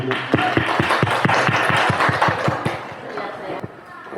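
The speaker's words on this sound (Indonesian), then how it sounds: "Tepuk tangan bagi kita semua." Group applause with rhythmic, unison clapping in quick regular beats, loud and close, fading slightly toward the end.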